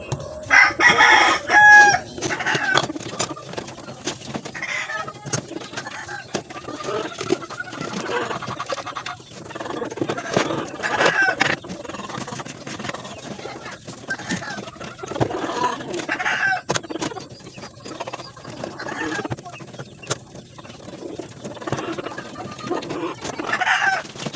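Chickens cluck and squawk busily throughout, with a rooster crowing near the start and scratching and rustling sounds mixed in.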